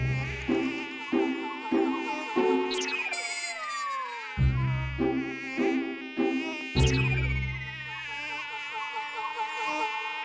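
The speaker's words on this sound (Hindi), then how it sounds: "ये मच्छर कहां से है आया जिसने हमें है इतना सताया?" A cartoon mosquito buzzes in repeated whining bursts, with music and comic sound effects playing throughout.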